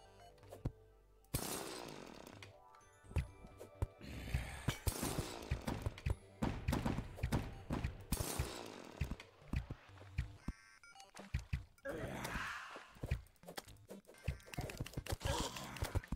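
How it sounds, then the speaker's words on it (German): Drill mining in the video game Terraria, with repeated grinding, crunching bursts as blocks break, close and fairly loud amid game effects. "Wo ist mein Bohrer?"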